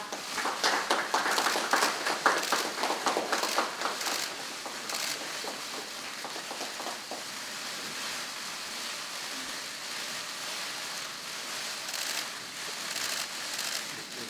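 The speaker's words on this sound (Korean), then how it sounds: "박수 부탁드립니다" Audience applause fills a Democratic Party of Korea talent-recruitment announcement event, a dense, steady wash of clapping that is strongest in the first few seconds and then holds at a slightly lower, even level to the end.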